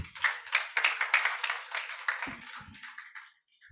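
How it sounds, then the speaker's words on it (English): An audience at an arbitration and dispute settlement journal event gives a brief round of applause, fairly sparse claps that start strong, then thin out and fade away toward the end. "Round of applause for him, please."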